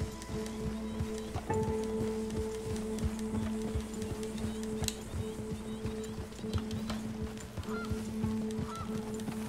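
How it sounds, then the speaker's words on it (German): Ducks in the video game Red Dead Redemption 2 quack and honk repeatedly in a steady rhythm against an outdoor game ambience. "Enten, natürlich."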